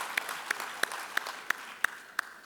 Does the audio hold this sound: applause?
yes